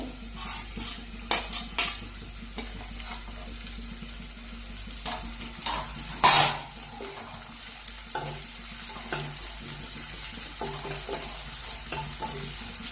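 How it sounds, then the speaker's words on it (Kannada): Chopped green chillies and curry leaves frying in a pan, with a constant low sizzle and scattered clinks and scrapes of a metal spoon against the pan, one loud clatter midway, close and without speech. "ಒಂದು 2 ನಿಮಿಷ ಹುರ್ಕೊಂಡ್ರೆ ಆಗ್ತದ್ರಿ ಇದು."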